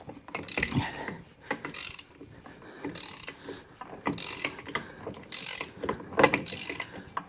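A ratchet wrench loosens a car brake bolt during a brake overhaul, repeated bursts of close, rhythmic clicking and ratcheting in several strokes separated by brief pauses, with no talking.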